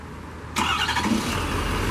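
A 2012 Ford F-250 King Ranch 4x4 with the 6.7 engine starting by remote start: a sudden loud crank catches half a second in and settles into a steady rumbling idle.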